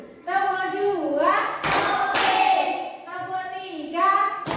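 Children in a class clap a counted clapping routine, giving two loud, close clap bursts in the middle between stretches of kids chanting.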